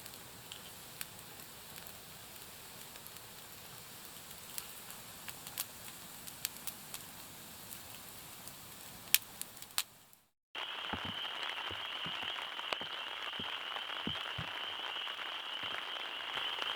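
Steady patter of rain on a tent surface, dense and continuous with scattered sharper drops, shifting to a brighter hiss partway through.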